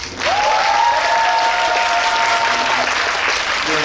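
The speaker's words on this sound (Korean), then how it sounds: "여러분 뜨거운 박수 부탁드립니다" An audience at a post-screening talk event for the film 366 Days claps loudly and steadily throughout, dense continuous applause filling the room, with a brief high tonal cheer or whistle rising over it early on.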